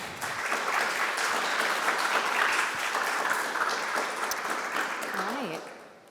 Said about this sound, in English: Let's have a big round of applause for Krystal